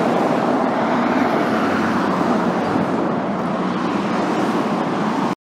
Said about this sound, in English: Amazing to me how busy the traffic is in northern Eugene.